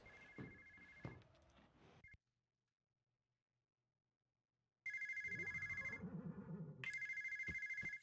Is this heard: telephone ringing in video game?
yes